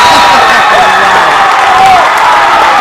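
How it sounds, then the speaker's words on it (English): A basketball crowd roars loudly and steadily, with cheering and shouts filling the arena for a few seconds. "The crowd leaps to their feet."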